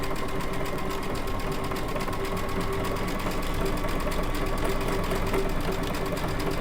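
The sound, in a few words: Baby Lock Altair sewing machine stitching a circular handle stitch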